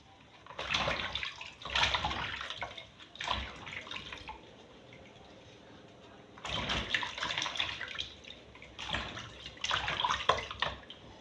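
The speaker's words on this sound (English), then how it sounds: "Wash the leaf well. Open it and wash." Bitterleaf leaves are washed by hand in water, with repeated splashing and sloshing bursts separated by quieter moments, close up and with no talk.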